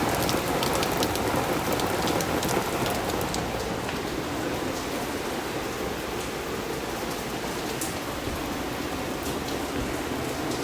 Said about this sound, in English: This is what I meant when I said it was raining.